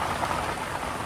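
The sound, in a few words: rain falling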